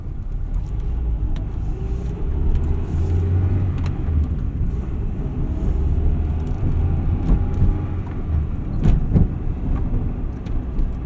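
A 1998 Acura Integra Type R driving, its engine and road noise making a steady close rumble inside the cabin with occasional small clicks and knocks.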